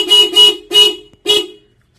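Four separate loud blasts from a Roots Vibromini horn on a Suzuki Access 125 scooter. The first two come close together and the last two have short gaps, with a bright, car-style tone heard alone up close.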